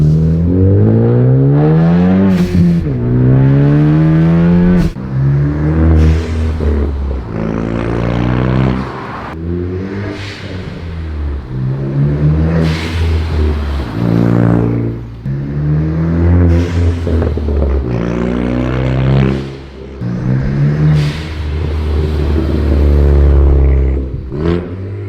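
A Ford Focus ST fitted with a Turbosmart blow-off valve revs loudly up close in a run of sharp bursts, each rise ending in a quick drop, repeated about eight times.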